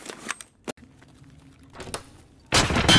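Bursts of gunfire in Escape from Tarkov, a few sharp isolated shots early, then a scattered volley and a loud sustained close burst at the end.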